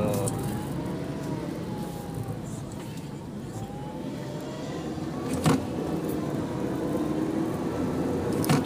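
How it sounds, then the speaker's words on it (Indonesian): A DFSK Glory i-Auto SUV with a CVT in manual mode engine braking through downshifts: a steady low cabin drone with faint rising and falling engine tones and a couple of brief knocks, heard from inside. "Jadi misalnya kita oper lagi kedua, ke satu lagi, dia nahan nih engine brake."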